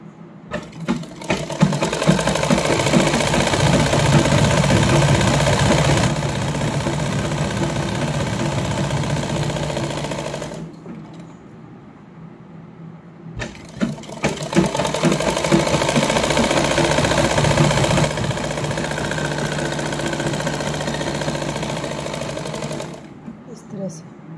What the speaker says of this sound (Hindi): उस सिलाई के ऊपर ही सिलाई लगानी है,